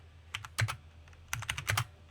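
Quick typing on a computer keyboard, a few short bursts of sharp, close key clicks separated by brief pauses.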